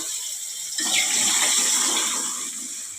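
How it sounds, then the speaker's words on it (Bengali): Cooked lentils (dal) poured into a pan of cooked spice mix with turmeric, giving a sudden, steady wet hiss and splash that starts about a second in and carries on close by, with no talking. "মশলাটা হয়ে গেছে। এখন এই যে ডালটা দিয়ে দেব।"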